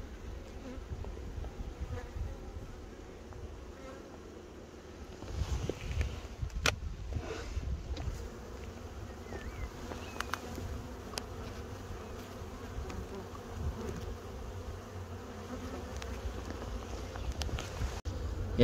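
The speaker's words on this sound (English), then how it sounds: "Although there's two supers full of bees," Honeybees buzz in a packed hive with two full supers and a crowded brood box at a rapeseed site. The drone is dense and continuous, with a few sharper knocks and handling sounds partway through.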